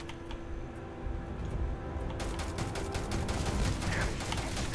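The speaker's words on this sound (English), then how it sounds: "A lot of shooting happens if this is a walking simulator" Sustained gunfire in a video game, a steady stream of sharp rapid shots that grows denser and louder over a constant background rumble.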